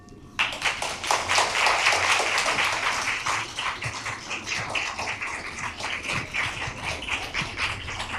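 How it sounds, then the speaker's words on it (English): Loud, dense applause from an audience after a poetry reading, breaking out suddenly and sustaining a crisp clatter of many hands before easing slightly toward the end. "Let's all give Marcia one more round of applause for that beautiful reading."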